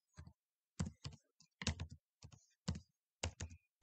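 Close, quiet typing on a computer keyboard comes in short bursts of clustered key clicks separated by brief pauses, with no talk.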